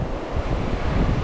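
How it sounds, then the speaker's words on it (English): Waves break on a Gulf Coast beach in a brief, loud, steady wash of surf mixed with wind buffeting the microphone. "you can kind of see the waves breaking over here on the right"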